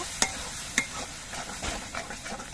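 Yogurt fish curry made with cashew paste is stirred in a pan over low heat. There are two sharp utensil clinks, then soft scraping strokes over a faint sizzle, close up and without speech.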